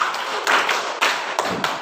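A group claps short bursts in a rhythm game, with several distinct clusters of sharp hand claps spaced about half a second apart, close and fairly loud with little talk.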